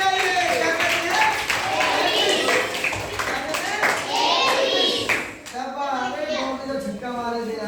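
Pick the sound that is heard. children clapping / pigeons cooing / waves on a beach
children clapping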